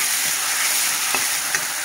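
Tadka sizzling in a pan in a home kitchen, a steady broadband frying hiss with a couple of small pops, no voices.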